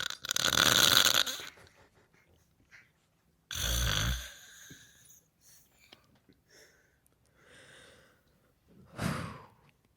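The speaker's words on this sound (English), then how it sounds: "For our very first one is this wonderful woman sleeping and snoring very loudly" A woman sleeps and snores very loudly in a few long, harsh bursts separated by quiet gaps, with faint breathy sounds and voices between.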